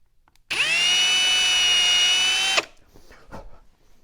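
A power drill whines steadily for about two seconds at close range, boring a hole in the center of a wooden dowel, then stops, followed by a couple of faint knocks.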